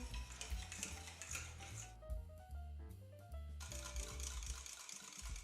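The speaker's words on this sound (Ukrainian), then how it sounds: "Замішую вінчиком" Rapid whisking of a yeast-bun starter mixture in a saucepan on the heat, a brisk metallic scraping and ticking that pauses briefly midway while background music plays.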